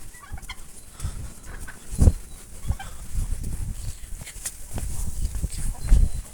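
Turkeys gobble and chickens cluck in a farmyard, scattered calls near and far over low rustling and footsteps.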